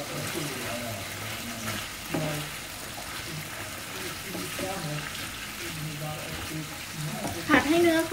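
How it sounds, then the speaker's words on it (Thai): Beef stir-fried in a pan for Thai pad see ew sizzles steadily with scraping stirs and a few sharper clatters near the end, while a voice talks over it throughout. "ผัดให้เนื้อเขาสุกนะคะเพื่อนๆ"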